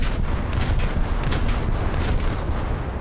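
76 mm naval gun firing from an Albatros fast attack craft in War Thunder, heard as a few heavy booming shots over a constant loud engine and water rumble, close and with no talk.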